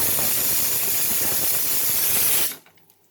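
A pressure cooker whistle blows as a loud, steady broadband hiss of escaping steam for about two and a half seconds, then cuts off abruptly into near silence.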